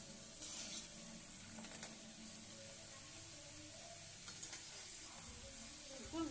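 Puris frying in oil over low heat give a quiet, continuous sizzle with a few soft stirring and spatula touches, close by and without speech.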